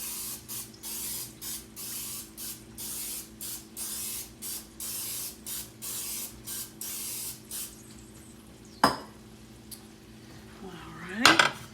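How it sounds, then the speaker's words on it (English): A series of short, rapid hissing sprays from an aerosol cooking spray can into pans, repeated in quick bursts, followed by a few clanks of metal pans. "spray it with some cooking spray"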